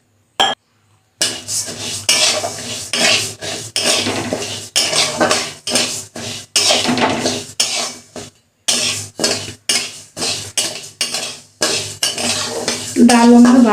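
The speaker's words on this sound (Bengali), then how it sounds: "ডালটা ভেজে নেব ভালো করে" Chana dal frying in a pot while a metal spoon stirs it, giving repeated close scraping and clinking strokes in an uneven rhythm with brief pauses between.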